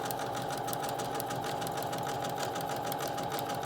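A sewing machine runs steadily while back stitching a strap onto a fabric medical mask, giving a close, continuous rapid needle chatter throughout.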